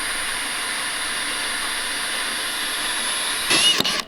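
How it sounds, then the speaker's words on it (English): A power drill bores through the body of a Porsche into the metal beneath, a steady high whine that strains and rises sharply near the end before cutting off. "because you're gonna go through metal now"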